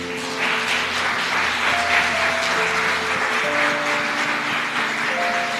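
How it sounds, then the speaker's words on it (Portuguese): A church congregation applauds together, steady broad clapping heard over sustained tones from musical instruments playing underneath. "Aplaudir Jesus, que Ele merece."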